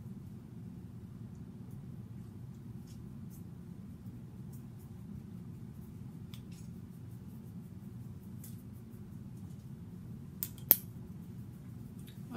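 A pair of quick, faint scissor snips trimming the lace of a wig lands near the end of a long stretch of quiet, steady room hum.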